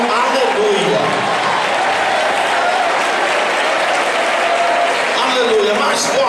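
Church congregation applauding during a vigil service, dense sustained clapping from a crowd that fills the whole stretch at a steady, loud level.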